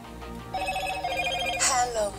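A short electronic startup jingle plays a few bright rising tones from a Moto E4 Plus phone restarting, fairly close, with a faint voice under it.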